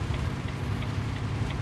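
Heavy rain falling in Jeddah, Saudi Arabia, on flooded streets with traffic, heard as a steady, dense hiss over a low rumble with no voices.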